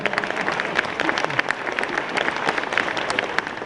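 Convention audience at a sci-fi fan event gives lively, sustained applause, with many hands clapping steadily close by and a few sharper claps standing out, with no speech on top.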